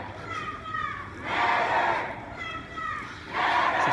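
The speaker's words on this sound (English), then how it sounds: "just kind of watching as the crowd moves through town" A crowd of Black Lives Matter protesters marching through a town street, voices swelling in two loud waves of shouted chanting with quieter crowd murmur between, steady and moderately near.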